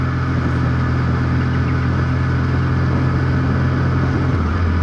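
Steady, loud motorcycle engine running close by, a continuous droning hum with a slight shift in pitch near the end and no speech.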